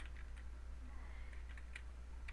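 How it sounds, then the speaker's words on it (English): Computer keyboard keys are pressed while cropping an image in Photoshop, a scattering of light, quick clicks at an uneven pace, faint and close under a steady low hum. "And then you can use your arrow keys"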